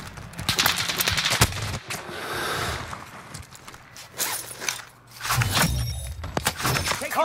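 Rapid bursts of Call of Duty gunfire crackle close and loud in short volleys, interrupted by brief pauses and rustling movement, with a later flurry of shots near the end.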